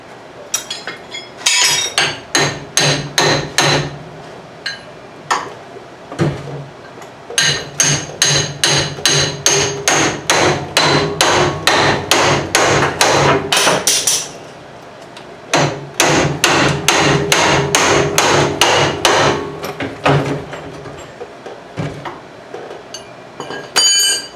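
Rapid metal-on-metal hammer strikes on a pickle fork wedged into the front suspension of a 1963 Chevy C10 pickup, loud and close, in dense bursts with brief pauses between runs.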